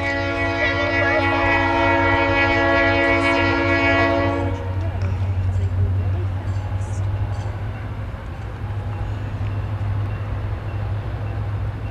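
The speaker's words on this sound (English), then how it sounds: "It's my first train, Sandy!" A train passes close by, opening with a loud sustained horn blast that cuts off after a few seconds and is followed by a steady rumble of rolling wagons and rail noise.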